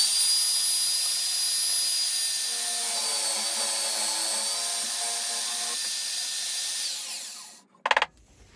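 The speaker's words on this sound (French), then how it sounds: "Je vais pouvoir venir faire mon perçage de 20 mm de profondeur." A drill in a WABECO drill press column bores a hole 20 mm deep, a steady high motor whine with a rising grinding tone as the bit cuts, then winding down to a brief knock.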